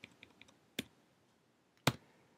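A few soft, scattered keystrokes on a computer keyboard during iOS coding, followed by two sharper, louder key presses spaced about a second apart, close and clear with no talking.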